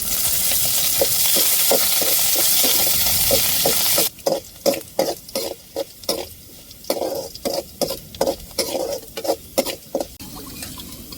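Hot oil sizzles with a steady hiss, then crackles and pops in sharp bursts as dried red chillies and curry leaves are stirred in close by.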